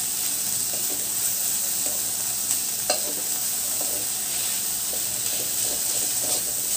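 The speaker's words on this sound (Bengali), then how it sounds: "এখন এগুলো সব একসাথে আবার মিশিয়ে দিই" Ridge gourd and prawns with tomato and salt are stirred in a hot frying pan, giving a continuous close sizzle and hiss with scattered scraping and clinking of the spoon against the pan.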